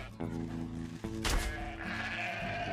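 A sheep bleats in the video game ARK: Scorched Earth, a couple of wavering, harmonic cries close up, followed by a brief impact and quieter game sounds after.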